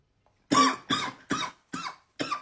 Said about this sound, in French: Ça me donne même la toux.